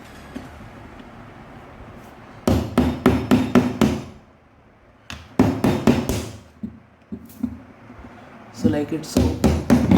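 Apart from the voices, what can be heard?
hammering jammed exhaust fan motor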